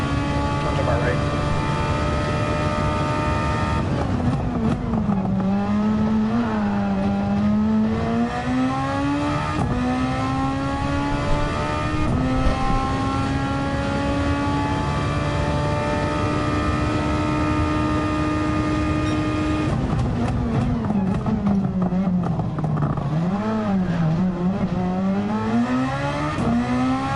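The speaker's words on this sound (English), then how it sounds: "It really feels like a Formula 1 car, bro." A race car engine in the Gran Turismo 7 video game, on the Tokyo Expressway track, drones loud and continuous, its pitch rising and falling as it revs through gear changes and eases for corners.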